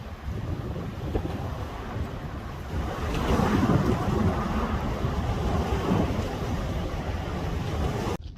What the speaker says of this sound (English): The water moves so fast, like you can hear it.